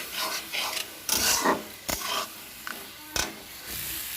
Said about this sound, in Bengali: দিয়ে ভালো করে চিংড়িটার সাথে মশলাটাকে মিশিয়ে নেব ভালোভাবে।